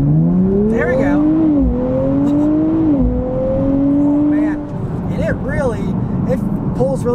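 2024 Nissan Z Nismo in Sport Plus mode accelerating on a back road, engine note climbing through gears with short dips at shifts, loud and close, with someone talking over the latter half.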